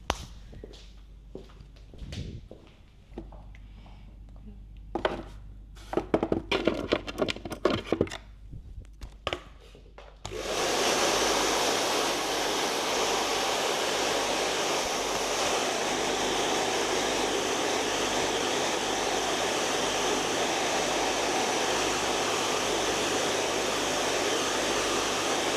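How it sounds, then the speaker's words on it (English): A hairdryer at a barber shop starts up and blows with a steady, loud roar. Before it switches on there are scattered clicks and handling sounds. "I'm just going to bob the hairdryer on"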